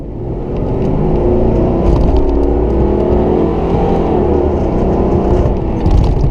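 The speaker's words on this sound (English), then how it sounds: "I love that V8 sound." A powerful V8 engine of a 1994 Ford Mustang GT roars continuously as the car accelerates hard down a straight, loud and close, with a steady throaty rumble throughout.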